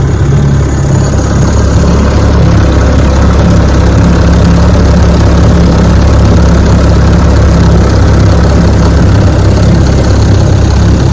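A restored Evinrude outboard motor idles steadily and loudly at close range, a continuous low throbbing rumble with a faint knocking pulse that holds even for the whole stretch, with no voices.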